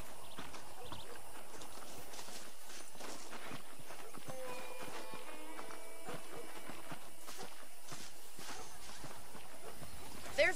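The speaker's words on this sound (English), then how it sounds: "The horses are saddled up over here." Horse hooves clip-clop steadily in the Western video game Red Dead Redemption, moderately quiet, with a brief tonal game sound partway through.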